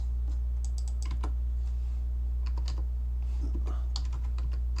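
Computer keyboard typing while a field name is edited in a barcode-based property inventory system: a run of quick, uneven key clicks in short bursts with brief pauses, close and clear over a steady low electrical hum.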